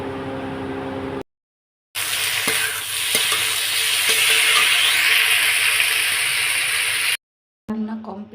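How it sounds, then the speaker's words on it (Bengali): Three pieces of fish sizzle in a hot frying pan, a steady loud crackling hiss with occasional scraping stirs, broken by short silent cuts and faint household sounds at the edges. "মাছ 3 পিস আছে, সেটা ফ্রাই করে নিচ্ছি"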